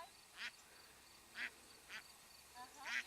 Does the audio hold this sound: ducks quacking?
yes